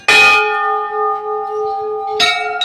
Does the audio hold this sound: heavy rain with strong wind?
no